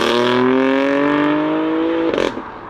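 BMW M4 running an M Performance exhaust, a loud, harmonic-rich drone climbing steadily in pitch, then a burst of crackles and pops on the shift near the end; no voices.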